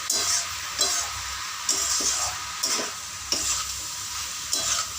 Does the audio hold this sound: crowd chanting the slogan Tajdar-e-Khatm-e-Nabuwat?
no